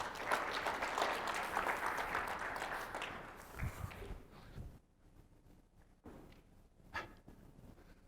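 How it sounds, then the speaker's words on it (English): An audience at a tech startup competition applauds a founder being introduced, steady dense clapping that fades out after about five seconds, leaving quiet room noise with a few scattered claps. "A round of applause for Andrew."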